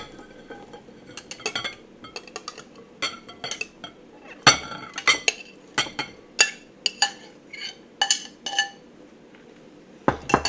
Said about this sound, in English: I think I'm going to have to upgrade to a bigger bowl